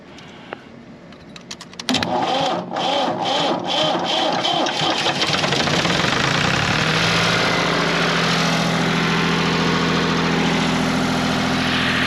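A tractor with a no-start problem cranks briefly, then catches and settles into a loud, steady mid-pitched idle close by, running without pause until the end.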